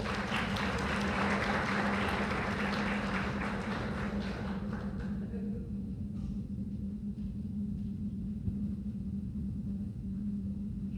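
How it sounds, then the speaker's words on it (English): An audience at a presidential forum applauds students, a dense wash of clapping that is loudest at first and fades after about five seconds into a low, steady rumble of room noise. "could we all please give them a round of applause?"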